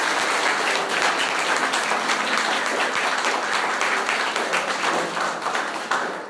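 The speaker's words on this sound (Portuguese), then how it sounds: "Uma salva de palmas" Church congregation applauding after a prayer, a steady wash of many hands clapping at even strength, continuing without pause and easing slightly at the end.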